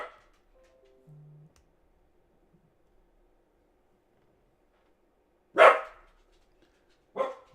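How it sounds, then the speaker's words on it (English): A dog barks twice in the distance, two short sharp barks spaced about a second and a half apart after a quiet stretch with faint indoor sounds. "My dog, here's another dog."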